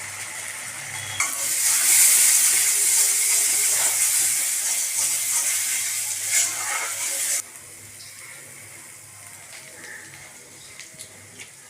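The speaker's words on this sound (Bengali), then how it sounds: "এখন কম আঁচ করে ভালো করে এটাকে নেড়ে নিতে হবে" Bean paste frying in oil over low heat is stirred in a pan, a bright continuous sizzle that swells loudly at first, then drops to a softer hiss broken by scraping and clinks.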